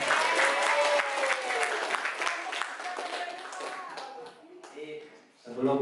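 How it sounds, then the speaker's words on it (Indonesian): Audience applause and clapping at a national-insight training session, crisp claps mixed with voices and cheering that thin out toward the end before a voice cuts in. "tepuk tangan untuk semuanya"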